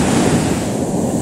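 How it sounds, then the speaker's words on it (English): Roaring white water at the heart of the New River Gorge, a big set of rapids; a loud, steady rushing wash close by with no voices over it. "made our way down here to the heart of the New River Gorge to our biggest set of rapids for the day"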